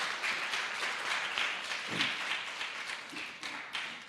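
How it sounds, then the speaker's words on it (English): Conference audience at a sustainability congress clapping, a moderately distant, even wash of hands with a few sharper claps poking through, fairly soft and sustained. "Big applause for Sylvia."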